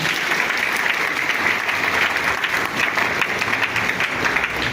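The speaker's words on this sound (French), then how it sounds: "On l'applaudit, s'il vous plaît." An audience claps steadily, a dense burst of applause from a crowd that holds throughout without voices rising above it.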